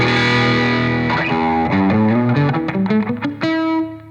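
Electric guitar played through a Victory MK Overdrive amplifier, heavily distorted sustained chords giving way to a quicker riff of short notes, ending on a ringing chord.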